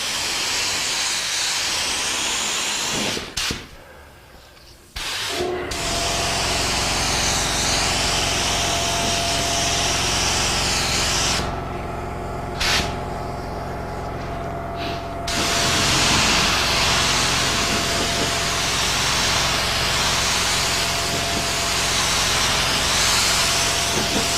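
Low-pressure air sprayer blowing a steady broad hiss while spreading powder across a mahogany finishing piece, continuous and close, with two brief pauses partway through.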